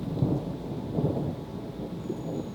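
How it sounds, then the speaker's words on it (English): Rolling thunder rumbles low and steady through the whole stretch, with rain falling alongside and no voices present. "Can you hear that thunder?"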